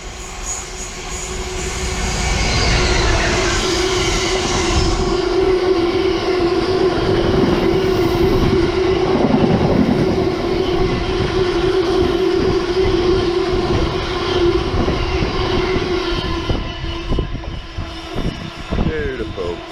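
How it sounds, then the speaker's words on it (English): A locomotive-hauled train from Mount Sorrel heading to Radlett rolls through Wellingborough railway station, a loud, sustained rumble with a steady engine drone and wheel noise, building early and easing off toward the end. "here is a train from Mount Sorrel going all the way to Radlett"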